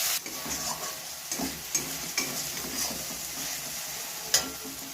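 Cauliflower frying in a pan with onion, ginger-garlic paste and tomato paste, a steady sizzle under repeated scraping stirs and clinks of a spatula, close and moderately loud with no talk.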